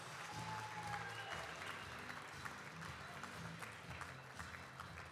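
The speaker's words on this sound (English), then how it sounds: "Another round of applause for our new Hall of Fame entries." Applause at a closing session in Nashville for new Hall of Fame entries, a steady mid-distance wash of clapping heard faintly through a hall with a low background hum underneath.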